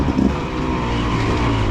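A Beta two-stroke dirt bike engine runs steadily at low revs, a close, continuous rough buzzing drone that holds without stalling.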